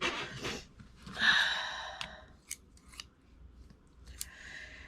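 Several crisp snips of scissors cutting paper, a rasping slice followed by sharp separate clicks, close up, with faint breathing between.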